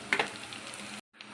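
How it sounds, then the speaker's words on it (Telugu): Ingredients for paneer bhurji fry in a pan with a soft, steady sizzle that cuts out briefly near the end before resuming, faint and close. "కొంచెం పచ్చి వాసన పోయే వరకు దీన్ని ఫ్రై చేసుకోవాలండి"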